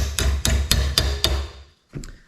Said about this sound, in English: I'm just gonna hammer over.